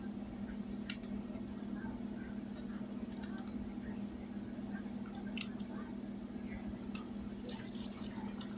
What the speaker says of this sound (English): Now we're going to add some water.